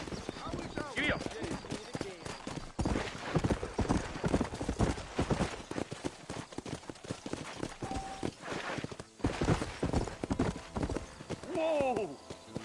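Horse hooves clop and gallop in Red Dead Redemption 2, a dense rapid hoofbeat rhythm running throughout with occasional whinnies, while people talk over it.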